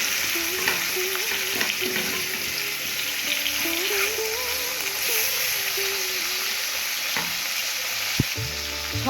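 Pabda fish fry in hot mustard oil in a kadai on a gas stove, giving a loud, steady sizzle and crackle with occasional stirring clinks.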